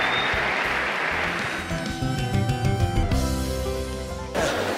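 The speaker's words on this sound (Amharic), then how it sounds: "ፓናሊስቶቻችንን፣ አወያዮቻችንን እስቲ ባካችሁ ከፍ ያለ ጭብጨባ አድርጉልኝ።" An audience applauds panelists and moderators at a panel discussion event. Steady, dense clapping fills the room, and sustained music tones come in partway through and continue to the end.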